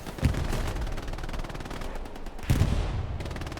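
A machine gun fires from a bunker in the World War II shooter Hell Let Loose, with rapid continuous bursts close up and two heavier booming impacts among the rattle.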